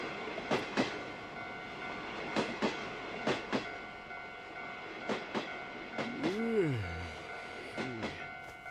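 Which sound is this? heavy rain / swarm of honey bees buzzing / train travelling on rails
train travelling on rails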